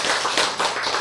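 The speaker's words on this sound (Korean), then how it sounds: "박수." An audience at a lecture on healing autoimmune disease claps briefly, a short burst of dense hand clapping with a few accented peaks, moderately loud with no talk over it.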